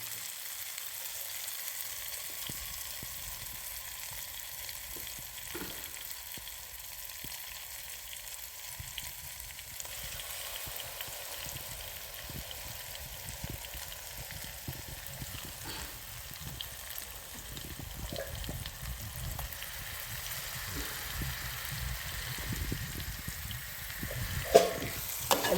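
Ground masala paste fries with onions in hot oil, a steady, fairly quiet sizzle with soft crackles and occasional stirring scrapes over the whole stretch, with no voices.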